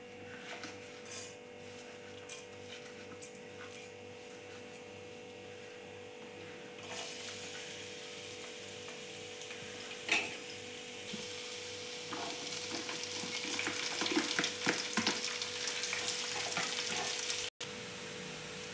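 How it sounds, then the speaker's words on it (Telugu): Chopped onion, garlic, cumin and curry leaves fry in hot oil with a soft, steady sizzle that swells louder and brighter in the second half, with occasional light clinks from a spoon. "ఇది వేగుతుంటుంది కదా"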